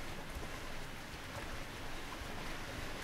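Steady broadband rush of falling water from a waterfall in the fantasy video game Might and Magic X Legacy, a constant moderate roar with no breaks and no voices.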